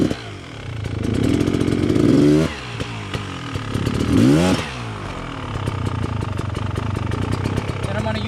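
A dirt bike engine revs hard on a clutch pop during a trail training ride over rocks and logs, with two sharp rising bursts of revving over a sputtering idle and a voice talking throughout.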